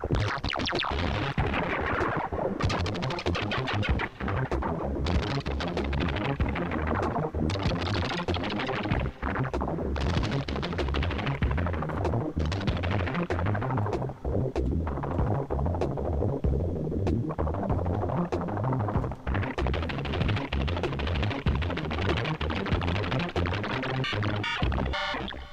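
A Blipblox synthesizer churns out loud, dense, throbbing electronic tones that morph and sweep continuously as a single knob is turned, with no talking over it.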